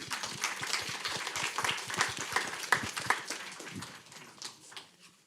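An audience at a talk applauds with dense, quiet clapping from many hands that swells and then thins out toward the end.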